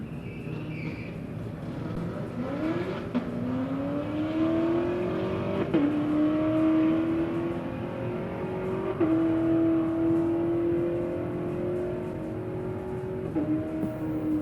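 A 2000 Pontiac Trans Am and a 2017 Camaro SS run a drag race, engines revving hard then climbing through rising, shifting pitches as they accelerate away, loud and steady with no talk.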